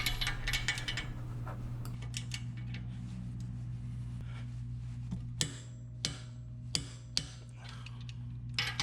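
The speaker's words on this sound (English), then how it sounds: "Then torque all 3 nuts to 65 foot-pounds." Torque wrench tightening the nuts on a Teraflex Falcon Nexus EF 2.2 steering stabilizer on a Jeep, a few sharp metallic clicks over a steady low hum, close and fairly quiet.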